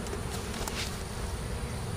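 Honeybees buzzing at a heavy, packed hive, a dense steady hum of many insects filling the whole clip at close range with no talk over it.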